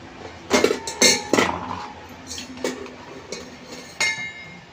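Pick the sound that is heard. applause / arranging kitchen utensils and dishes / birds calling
arranging kitchen utensils and dishes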